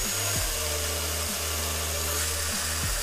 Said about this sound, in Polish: Wkładamy we wkrętareczkę. Zakręcamy i kręcimy.